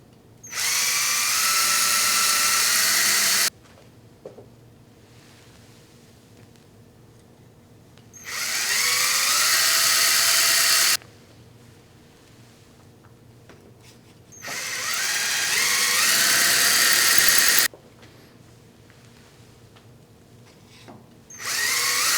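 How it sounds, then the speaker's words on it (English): An electric drill boring 5 mm pilot holes in metal to mount a linear scale on a lathe, with three loud bursts of high-pitched whine separated by quiet pauses, and a fourth starting at the end. "Okay, so let's drill those holes."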